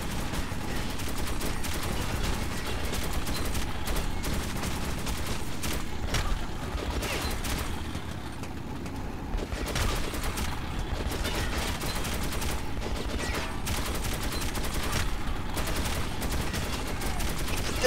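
Sustained machine gun fire in the shooter game Metro 2033 Redux, a dense continuous rattle of rapid shots that keeps going steadily for the whole stretch with no pauses, loud and close up.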